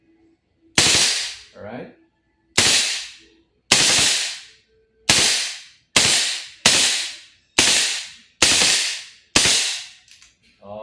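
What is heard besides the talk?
Redmantoys BCM MCMR MK2 airsoft gas blowback rifle firing burst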